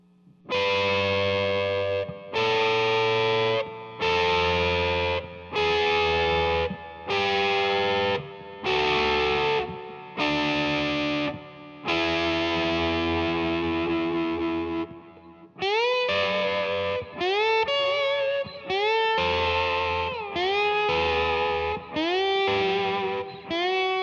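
Slide guitar in standard tuning with a distorted, delayed tone plays a string of sustained chords, then sliding notes that bend and repeat with echoing trails.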